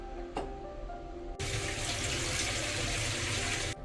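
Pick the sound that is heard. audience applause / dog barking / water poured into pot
water poured into pot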